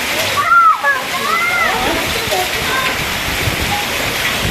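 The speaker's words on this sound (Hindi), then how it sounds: "यहाँ पर बहुत तेज़ तूफ़ानी बारिश आई थी" Heavy stormy rain pours down in Dubai as a loud, steady broadband wash of falling water, with a few faint chirping sounds above it.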